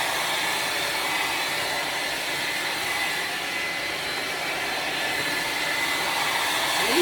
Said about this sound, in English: We're just gonna blow dry over it.